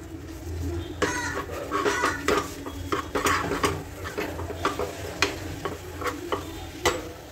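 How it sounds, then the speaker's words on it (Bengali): Spoon stirring white pasta sauce with milk in a metal pan, irregular scraping and clinking taps against the pan at varying loudness, with a low hum beneath. "অল্প অল্প করে এটাকে নাড়াতে হবে যতক্ষণ না এই লাম্পসগুলোকে নরম হয়ে যাবে"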